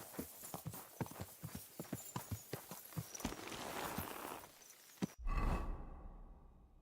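Horse hooves clip-clop in a steady walking rhythm in Kingdom Come: Deliverance II, fairly close and distinct, before a brief whooshing rush of noise near the end.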